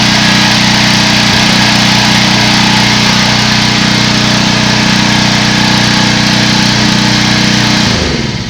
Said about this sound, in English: I'm getting ready to turn off the pressure washer, and pressure in the chamber will start to drop.